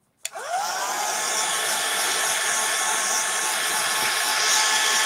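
A hair dryer switches on with a click and rising whine, then blasts continuously at close range to dry a steampunk sunflower craft, steady and loud with no talk.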